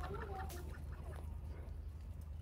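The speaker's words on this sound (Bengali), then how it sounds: "চীনা হাঁস পালন করতেছি" Chinese ducks on a small family farm give a few brief calls, faint and partly buried under a steady low droning hum.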